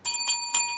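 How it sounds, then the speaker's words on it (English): A bell signals the end of a segment on a wrestling podcast, struck about three times in quick succession with bright, sustained ringing tones and no talk over it. "There's the bell."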